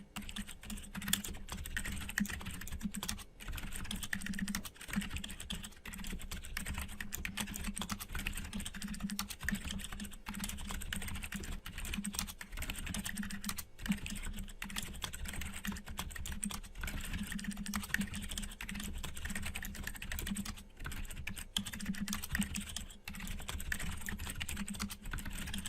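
Code is typed on a computer keyboard: a continuous, fairly close patter of keystrokes with brief pauses, running for nearly half a minute without speech.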